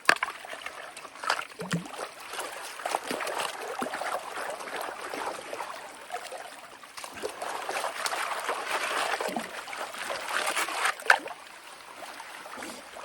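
Water sloshes and trickles in a gold pan as material is panned out, with irregular swishes and splashes close by, moderately loud and without talk.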